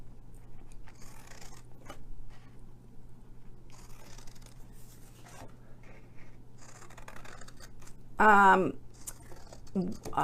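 Scissors snip through card while a Stampin' Up box is being made, leaving faint, close crisp cuts and rustles over a low steady hum, with a brief voice near the end.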